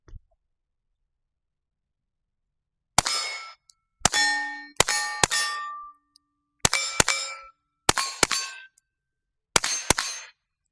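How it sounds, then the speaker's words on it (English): Suppressed shots from a CMMG .22LR rifle, fired alone as sharp metallic cracks with a ringing ping, some single and some in quick pairs, about ten rounds spread over several seconds with clean silence between them. "this is my first time ever shooting this gun suppressed"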